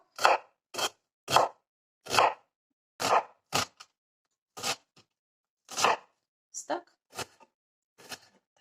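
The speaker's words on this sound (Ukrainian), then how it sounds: "сюди ми нарізаємо цибульку" Onion being chopped with a knife on a cutting board, about a dozen separate crisp strokes at an uneven pace, close and clear, with short quiet gaps between them.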